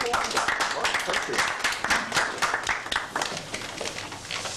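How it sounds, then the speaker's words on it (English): An audience at an acting-styles talk on 18th and 19th century theatre applauds, with dense, even clapping that slowly thins out and a voice speaking over it. "Give them a round of applause."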